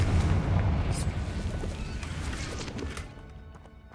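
A Confringo fire spell bursts in Hogwarts Legacy, a loud, deep blast right at the start that rumbles and gradually fades away over a few seconds.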